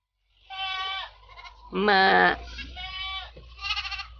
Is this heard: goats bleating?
yes